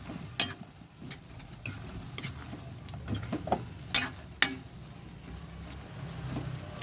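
Kare-kare with chili, garlic, coconut milk and shrimp paste is stirred in a pot, with scattered sharp scrapes and clicks of the utensil over a soft, steady simmering sizzle, close up and without talk.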